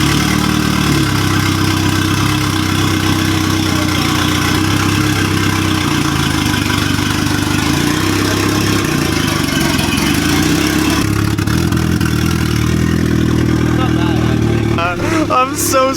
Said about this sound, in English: I'm so excited this thing's running and we're not in it and it's holding its idle